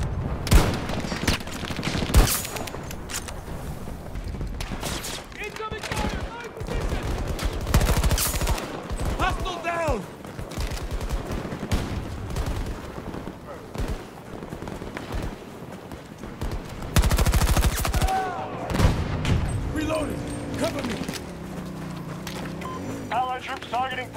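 Gunfire and explosions in the Battlefield 2042 opening mission, with repeated bursts of shots and booms in a dense, loud battle soundscape under radio chatter and shouted voices.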